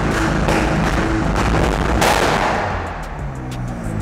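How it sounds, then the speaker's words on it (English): Several sharp, loud exhaust cracks and pops fire off in quick succession over a roaring McLaren 570S engine on a launch, then the noise drops to a lower rumble. "The car does the bangs and stuff like that."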